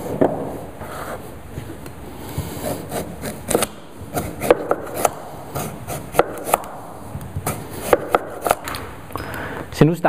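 A knife chops through cabbage and root vegetables on a board, giving a run of irregular, close cutting knocks beneath a voice that talks throughout.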